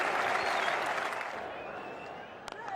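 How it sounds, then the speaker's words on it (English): A cricket crowd at Lord's during England v India bursts into sustained applause and cheering after a big hit, a dense, loud roar of clapping that fades slightly over a few seconds. "That sent the Indian portion of this crowd into raptures."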